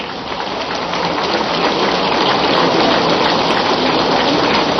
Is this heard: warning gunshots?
no